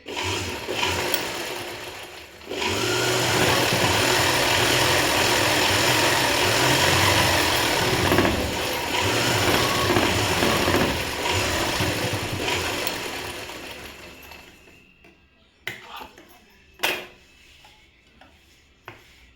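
A sewing machine stitches a government school uniform in one long steady run, humming and rattling up close, then slows and stops, followed by a few sharp clicks and taps.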